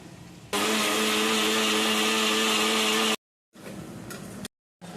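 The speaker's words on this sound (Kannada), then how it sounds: "ಇದಕ್ಕೆ ಸ್ವಲ್ಪ ನೀರನ್ನು ಸೇರಿಸ್ಕೊಂಡು ಇನ್ನೊಂದು ಸ್ವಲ್ಪ ರುಬ್ಕೊಳ್ತೀನಿ" A mixer grinder whirs loudly as it grinds a spice paste with water for vegetable sagu, running in one long steady burst followed by two shorter pulses separated by silence.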